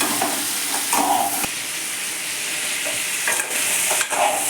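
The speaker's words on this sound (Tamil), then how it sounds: "நல்லா நண்டு சூடாகிற அளவுக்கு நம்ம வறுத்துட்டோம்னா அப்படியே இருக்கும் அந்த கறி" Crab pieces frying and being stirred in a hot pan for a crab masala gravy, a steady close sizzle broken by a few scraping stirs, with no talk.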